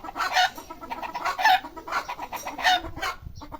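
A hen and a rooster cluck loudly and close by in repeated bursts of cackling, with no talking.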